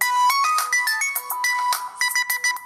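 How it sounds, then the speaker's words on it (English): A JIAKE X3S smartphone ringtone plays loudly through its small speaker, a bright repeating melody of quick electronic notes with no talking. "Let me see if I can go ahead and change the ringtone here."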